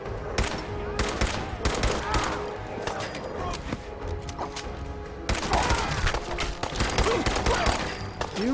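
Gunfire in Fallout 4 crackles in repeated bursts and single cracks throughout, fairly close and loud, with a few heavier impacts mixed into a busy combat scene.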